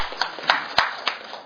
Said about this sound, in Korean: 여러분 큰 박수로 환영해 주시고요.